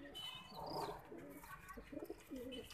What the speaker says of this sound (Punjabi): ਅੱਛੇ ਕਬੂਤਰ ਆ